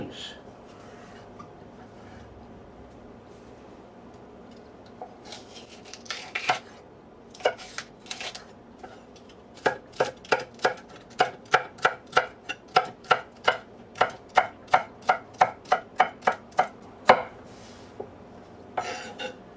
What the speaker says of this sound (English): I want to roughly dice all of these